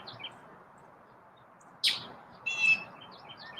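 A pet bird gives a couple of short, sharp chirps over a quiet room hum, one brief high note followed by a slightly longer buzzy chirp, fairly close and without speech.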